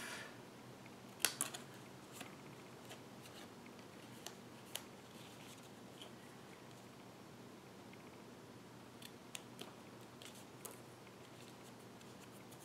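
Scissors trimming paper for a handmade holiday card ornament, a few crisp snips and light paper rustles scattered over several seconds, very faint and close, with no talk.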